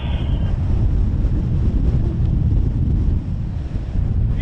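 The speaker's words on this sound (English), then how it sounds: "Oh, it's windy up here." Strong, steady wind buffets the microphone on a mountain summit at Beinn Chabhair in the Scottish Highlands, a constant loud rumbling roar with no gaps and no voices.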